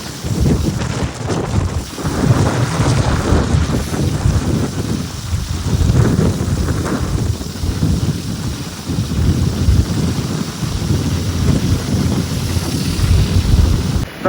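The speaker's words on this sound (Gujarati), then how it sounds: "બાઇક બસ સ્ટાર્ટ કરી દીધું છે." A motorbike is ridden on the open road, and heavy wind rumbles loudly and without a break against the microphone. The rushing wind almost completely covers the low engine drone for the whole ride.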